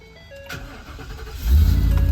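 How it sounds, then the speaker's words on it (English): A Ford-based 2022 Thor Four Winds 30D motorhome starts up: a brief whirring crank, then the engine catches and settles into a loud, steady low rumble close by. "We're gonna turn the vehicle on."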